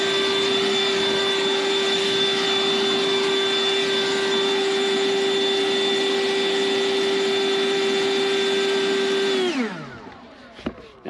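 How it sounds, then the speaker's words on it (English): A Toro 60V Flex Force battery leaf blower runs at a loud, steady, high whine while clearing a property. Near the end it winds down, and a few faint knocks follow after it stops. "Let's get to blow it off this property."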